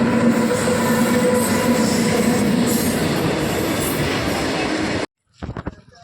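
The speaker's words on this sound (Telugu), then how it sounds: "ట్రైన్ అయితే వస్తుంది" A train rumbles past close by at a railway level crossing, a loud continuous roar of wheels and rattling wagons that cuts off abruptly, followed by a few brief clatters.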